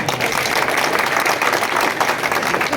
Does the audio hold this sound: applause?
yes